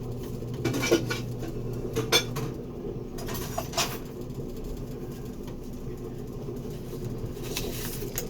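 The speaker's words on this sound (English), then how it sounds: "I'll put this in the sink." Cookware clatters into a kitchen sink while mushrooms brown for a cream of wild mushroom soup, with a few close metallic clanks and clinks early on, then softer handling noises over a low background hum, no voices.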